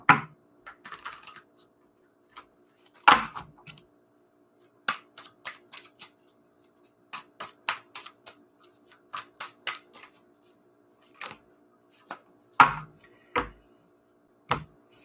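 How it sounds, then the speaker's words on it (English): Sharp, crisp riffling and tapping of tarot cards being shuffled, in scattered bursts separated by quiet pauses, close to the microphone. "going to shuffle these up good here."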